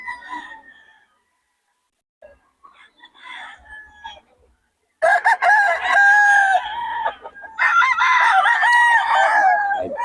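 Round head gamecock roosters crowing, several loud close crows in the second half after scattered quieter clucks and calls, overlapping near the end.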